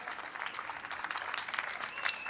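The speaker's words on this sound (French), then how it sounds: "Applaudissez-le vraiment comme il se doit." Audience in a Montpellier convention hall applauds actor Ben Browder at a fan conference, dense sustained clapping from a large crowd with a few brighter peaks near the end, loud and close throughout.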